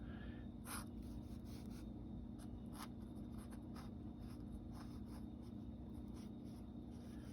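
A thin Sharpie pen drawing over pencil lines on paper makes soft, steady scratching and short strokes across a continuous low background hum.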